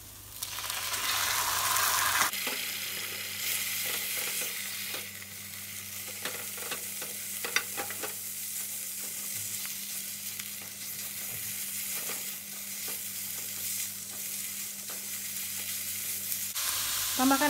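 Chicken sizzles and crackles steadily in a hot pan with garlic and shallots, a dense frying hiss with occasional clinks and scrapes of stirring, no voices.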